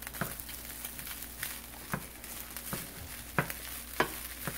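Chicken fried rice with peas stir-fries in a hot pan, a steady sizzle broken by regular scraping and tossing strokes of a spatula, close and moderately loud, with no voices.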